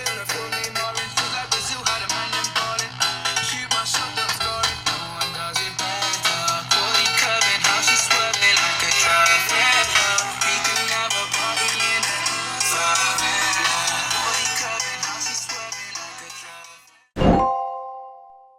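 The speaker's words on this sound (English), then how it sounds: "Here's a short clip of how the speakers actually sound." Music sample played through the speakers of a Redmi Turbo 5 Max phone, loud and dense with a steady beat, ending abruptly followed by a short bright chime.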